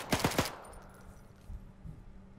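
A quick burst of three or four close, loud gunshots from the ARMA 3 WWII video game, followed by quieter ambience with faint distant thumps.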